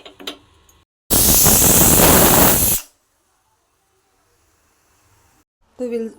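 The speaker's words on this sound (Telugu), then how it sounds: "2 విజిల్ వచ్చే వరకు పెట్టుకోవాలి" A pressure cooker of chickpeas soaking in salted water lets out one sharp, loud hissing whistle lasting nearly two seconds, then falls to near silence, with brief voice at the start and end.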